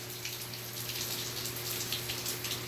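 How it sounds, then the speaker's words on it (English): Steady rain falls outdoors, a continuous broadband patter of drops hitting surfaces with no voices, holding an even moderate level throughout. "Falling water."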